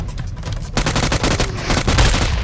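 Gunfire in the shooter game PUBG Mobile, with dense bursts of rapid automatic shots cracking out in quick succession, loud and close, with a few heavier booming hits mixed in.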